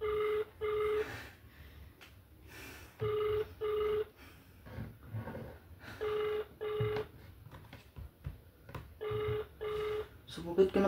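Phone call ringing unanswered, with repeated pairs of electronic ring tones in regular bursts separated by pauses, fairly quiet, and a low voice speaking between some of the rings.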